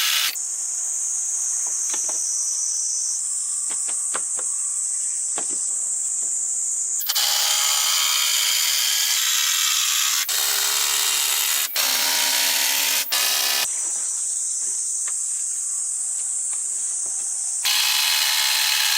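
Power drill or screw driver running in loud sustained bursts as timber wall frames are secured with screws on a building site under a two-story villa, alternating with quieter stretches of high insect-like hiss and clicks.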